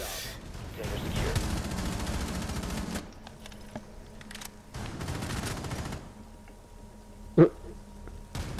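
Bursts of gunfire from a PS4 video game, played with mouse and keyboard, come in two dense volleys with quieter gaps between and one sharp single shot near the end.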